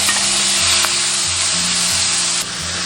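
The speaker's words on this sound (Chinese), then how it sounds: "锅中倒食用油，接着下入配料炒香" Seasonings frying in hot oil in a wok give a loud, dense, continuous sizzle with faint clinks from stirring, and no voices.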